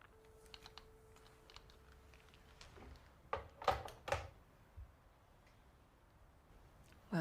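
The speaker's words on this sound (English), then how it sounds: "Julia has an old typewriter." Keys of an old typewriter clacking in a short, uneven burst of strikes, fairly quiet against a low background hum, with a few louder thumps near the middle.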